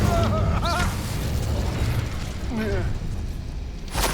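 Fiery spell blast cast in the Hogwarts Legacy video game, a sustained whooshing burst with swept magical tones and a sharp flare near the end, set over a constant rumbling game soundscape.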